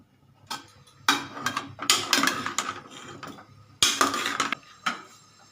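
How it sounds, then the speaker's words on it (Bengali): Chicken being mixed by hand in a bowl with lemon juice and salt, giving a series of irregular clinks and scrapes of utensil on dish, loud and close, separated by short quiet gaps. "ব্যাস এই লেবুর রস দিলাম আর একটু নুন দিলাম এবার এটাকে আমি একটু হালকা করে মেশাচ্ছি"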